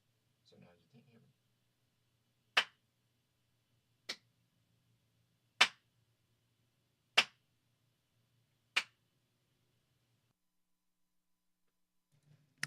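Five sharp hand claps, evenly spaced about a second and a half apart, in a room lined with acoustic panels; each clap is crisp and dies almost instantly with very little reverb, separated by near silence.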